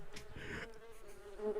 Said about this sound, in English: where the bees are the perfect thing to have